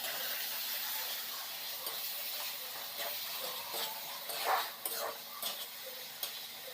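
Fish curry with potato and tomato frying in oil, a faint steady sizzle with occasional soft stirring clicks and scrapes, quiet and close, no talking.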